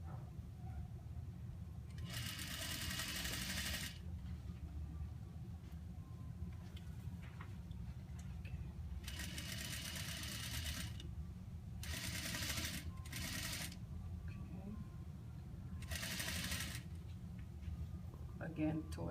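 Sewing machine running in several bursts of a few seconds each while stitching a garment's shoulder seam, a steady motor buzz under continuous instructional speech and low room hum.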